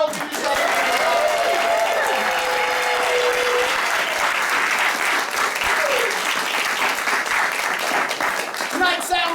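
An audience at an improvised comedy stage show applauds loudly and continuously for about nine seconds, with some cheering and voices mixed into the clapping.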